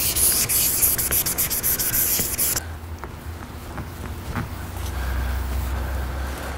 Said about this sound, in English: I just kind of went over it again, is all I did with the polishing compound